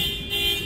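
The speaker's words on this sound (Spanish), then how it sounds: "puso la alarma de su carro" Car alarm sounding briefly, a loud sustained electronic tone heard close by.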